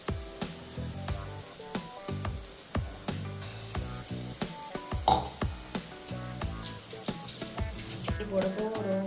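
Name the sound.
onions and ginger-garlic paste frying in pan for prawn gravy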